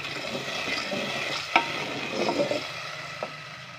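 Chicken noodles are stirred into chicken stock (yakhni) in a pan, giving a soft simmering sizzle with scraping spoon strokes and a couple of sharper knocks against the pan.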